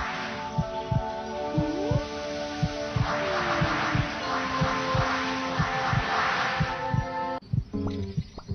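Heartbeat sound effect of a pounding heart, a regular, fast series of deep thumps under a bright musical bed, steady and prominent throughout before the music shifts near the end.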